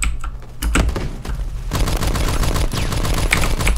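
A tank in an M3A1 video game fires in rapid bursts, sharp and loud, with clattering automatic fire running almost continuously through the second half.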